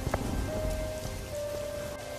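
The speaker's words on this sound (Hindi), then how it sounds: "इस बारिश का कोई भरोसा नहीं, ये रुके या ना भी रुके।" Heavy cartoon rain pours in a steady, dense hiss that fills the whole stretch, with a faint sustained tone running through the downpour and no voices.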